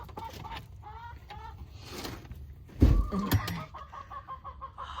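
A Cream Legbar chicken clucks inside a coop run, with several close, soft clucks and murmurs, then a louder squawk in the middle, and quiet clucking continuing after.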